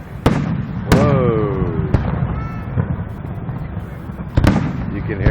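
Fourth of July fireworks in Austin, Texas: several sharp launch thumps and bursts with whistling rising streaks between them, heard outdoors with people talking nearby.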